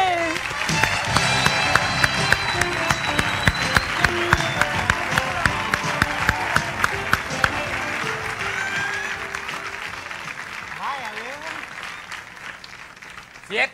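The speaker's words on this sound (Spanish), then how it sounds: "Vamos a recibir con un fuertísimo aplauso a Miguel Bosé." Studio audience at a Puerto Rican TV variety show bursts into sustained, dense applause with scattered cheers welcoming a guest, loud and steady before tapering off near the end.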